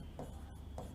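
A marker or chalk strokes across a classroom board in two short scratchy bursts about half a second apart, close and fairly quiet, with no talking.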